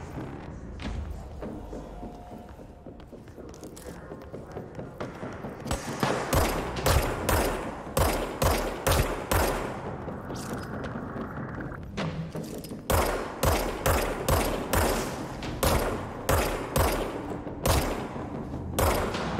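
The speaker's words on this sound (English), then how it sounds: "I think this gun has some bloom to it." Rapid gunfire from a weapon in the video game Control, repeated sharp shots in quick bursts growing denser and louder midway, steady rhythmic firing close up.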